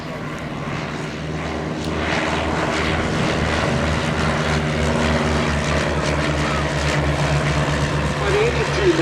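Piper L-4 Cub liaison aircraft fly at a military air show at Old Warden, a steady propeller-engine drone holding throughout at moderate distance beneath a commentator's voice on a public address system.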